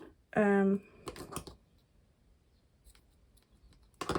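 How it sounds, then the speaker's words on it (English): A brief voice sound, then a few crisp, close snips of blunt scissors cutting fabric, followed by quiet and one more snip at the end. "Not the sharpest scissors those."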